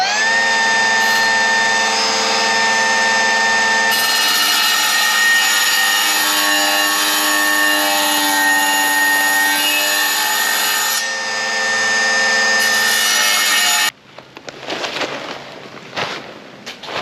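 A power saw whines steadily while cutting a notch in porcelain patio tile, with a loud, sustained tonal grind that shifts in pitch before stopping abruptly, followed by brief clatter and handling sounds.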